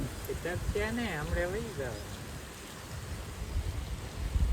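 Steady broadband hiss of rain, with a person speaking over it early on.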